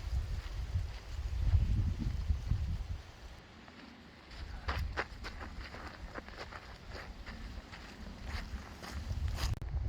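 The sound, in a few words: strong wind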